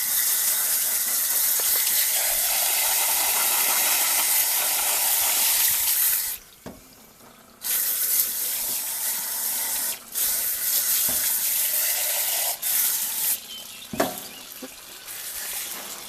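Water sprays steadily and loudly from a garden hose outdoors while chickens are butchered. The hiss runs almost continuously, with a brief drop partway through and a few short breaks near the end.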